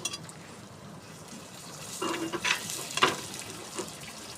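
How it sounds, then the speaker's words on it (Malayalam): Turmeric and chili powder sautéed in a pan for fish curry, a low sizzle with several clear scraping stirs of a spoon against the pan. "മഞ്ഞൾപ്പൊടി, മുളക് പൊടി ചേർത്ത് അതിന് ശേഷം നന്നായിട്ട് പച്ചമണം മാറുന്നത് വരെ നമുക്ക് നന്നായിട്ടൊന്ന് വഴറ്റി കൊടുക്കണം"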